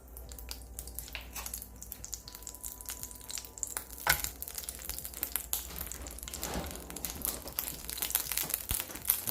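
Steady crackling sizzle of butter frying in a pan, with scattered pops and crinkly bursts throughout, no voices.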